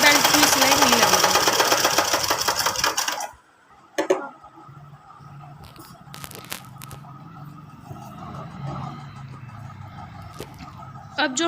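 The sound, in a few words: sewing machine stitching lehenga seam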